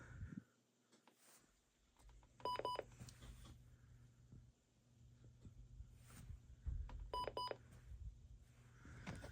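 Weather radio receivers sound a winter storm warning alert, two separate bursts of stacked, pulsing electronic tones in short repeated beeps, moderately loud over a steady low hum and background rumble.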